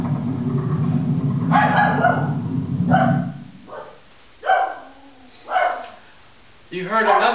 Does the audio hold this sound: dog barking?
yes